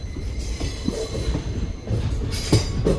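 The Shalimar special express rolls through Chellapalli station with a steady, broad rumble of wheels on rail, occasional clacks and a brief squeal, loud and continuous throughout.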